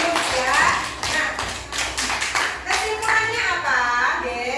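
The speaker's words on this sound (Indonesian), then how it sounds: "Tepuk tangan untuk semuanya ya." Primary schoolchildren clap together in an elementary classroom, a burst of scattered, uneven applause that carries on for several seconds while young voices chatter over it.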